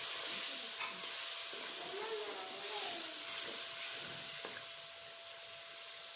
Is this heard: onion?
yes